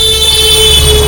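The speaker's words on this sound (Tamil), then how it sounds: "ஆளே இல்லாத ரோட்டுக்கு அவன் வாட்டுக்கு ஹார்ன் அடிச்சுட்டு போயிட்டே இருக்கான்." A vehicle horn blares steadily and loudly on an empty mountain road near Manali, a sustained close tone with no break and no talking.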